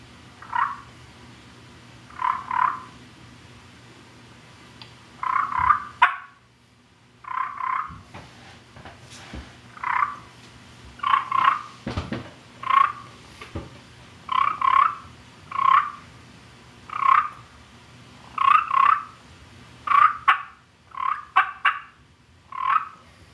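Turkey purrs worked on a Primos call: a steady series of short, rolling, fluttery bursts repeated about every second, close and clear over a faint low background hum.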